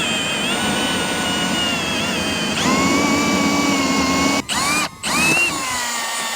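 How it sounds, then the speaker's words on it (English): A power drill bores a hole through a van roof during a solar panel install, a loud steady whine with rising tones that cuts off briefly twice near the end, then resumes. "we're going to drill our 3rd hole"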